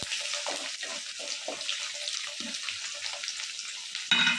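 Thin-sliced ginger frying in oil for a lubika pickle, a soft steady sizzle with occasional light stirring knocks, fairly faint and with no talking.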